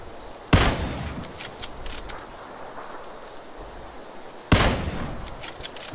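Gunfire in the battle royale game PUBG during a 10 vs 10 vs 10 event mode with a carbine: two sharp, loud shots about four seconds apart, each with a short ringing tail over faint background ambience.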